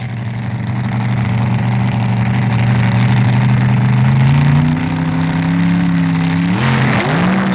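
At the 1968 NHRA US Nationals, an AA competition rail and a Cougar funny car drag race down the quarter mile. Their engines roar loud and continuous, with the pitch climbing as they accelerate, and there is no talk.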